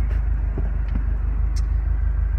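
A retuned 2010 Subaru WRX STI idling nearby, a steady deep engine rumble that holds even throughout with no talk.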